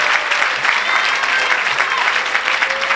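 Continuous loud clapping from a church congregation celebrating a healing at a miracle service, with faint voices and cheers mixed into the dense applause.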